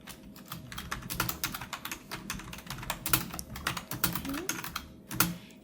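Rapid, close typing on a computer keyboard in a quiet clinic-style setting, with soft irregular key clicks and a few sharper taps throughout, faint soft-spoken talk underneath.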